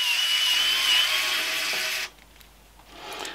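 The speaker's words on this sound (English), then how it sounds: "all you need to do for this one is unscrew this screw here." A screw is backed out of a 3D-printed upgrade part on an Elegoo Centauri Carbon printer, with a loud, close whirring drive lasting about two seconds before dropping to quieter handling noise.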